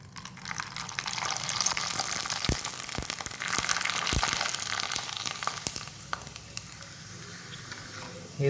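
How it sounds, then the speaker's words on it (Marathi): Sun-dried sabudana and potato papad frying in hot oil, a dense close sizzle and bubbling with a few sharp crackles and clicks, fading somewhat toward the end, with no talking. "आता मी तुम्हाला 2-3 तळून दाखवतो।"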